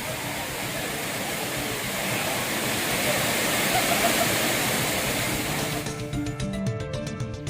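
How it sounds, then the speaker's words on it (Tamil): The Courtallam waterfalls, including Main Falls and Five Falls, pour heavily after rain, a loud dense roar of crashing water that holds steady, then thins slightly toward the end. "மெயினருவி, ஐந்தருவி, பழைய குற்றால அருவி, சிற்றருவி, புலியருவி உள்ளிட்ட அனைத்து அருவிகளிலும் தண்ணீர் வரத்து அதிகரித்துள்ளது"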